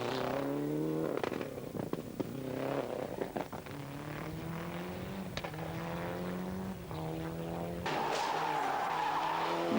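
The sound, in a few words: rally car skidding on a stage, Rally Vinho da Madeira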